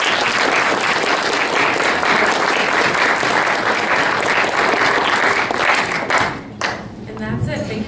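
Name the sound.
audience applause for a panelist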